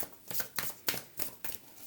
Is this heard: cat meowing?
no